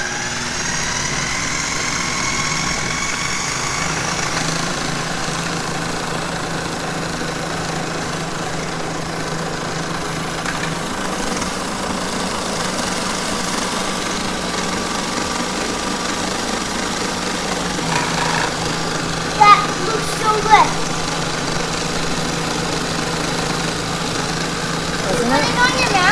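Homemade pesto whirring in a food processor running on high, a steady motor drone lasting most of the stretch, with faint talking underneath and a few clunks near the end.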